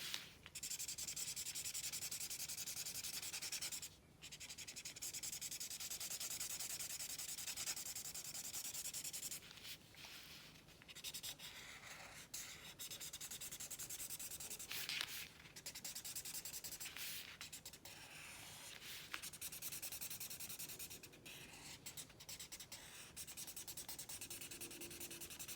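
Coloring in a drawing of a road in a David Hockney-style landscape, the faint, close scratchy rubbing of a drawing tool back and forth on paper in short repeated strokes, with brief pauses between passes.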